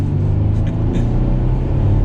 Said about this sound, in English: And then with this Gibson exhaust, we can give it a little bit of gas.